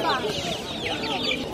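Chickens cluck and squawk at a Friday poultry market selling ducks, pigeons and rabbits, a busy overlapping chorus close by with market noise beneath it.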